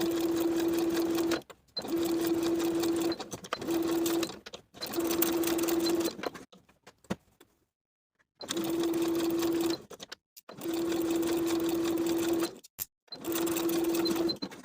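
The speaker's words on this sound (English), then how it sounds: "Edge stitch both sides of the pocket in place." A sewing machine edge-stitches a pocket onto a knit cardigan, running in loud, close bursts of fast whirring stitches separated by short pauses and one longer stop.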